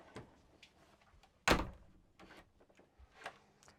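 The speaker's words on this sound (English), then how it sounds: "The ability to close a door cannot be overestimated." Interior door of a Dethleffs Trend T7057 motorhome shutting, one solid close-up thunk against soft background rustling and movement in a quiet cabin.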